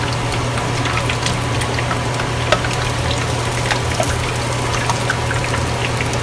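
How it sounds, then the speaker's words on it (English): Fried pork belly for lechon kawali lifted out of a pan to drain, a steady bubbling hiss of hot oil with faint dripping and light clinks, close and continuous with no talking. "it's time to pull it out from the pan. I'm going to drain it."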